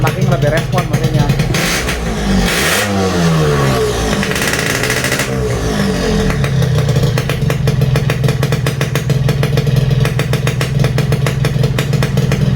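A Yamaha RX King two-stroke motorcycle revs up close and loud, with the engine note rising and falling before it settles into a raspy, crackling idle. It runs on Pertamax fuel and has an aftermarket exhaust.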